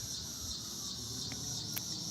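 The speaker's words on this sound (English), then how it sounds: "Listen to the cicadas." Cicadas keep up a faint, steady high-pitched drone outdoors on a dry evening, with a couple of brief sharper chirps over the continuous hum.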